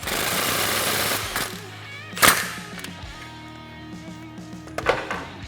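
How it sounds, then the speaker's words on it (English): A 27mm socket tightens a clutch removal tool on a Polaris RZR XP 1000. Close mechanical ratcheting and whirring sound at moderate loudness, with a few sharp metallic clanks in between. "we're going to grab our 27mm and tighten the clutch removal tool up"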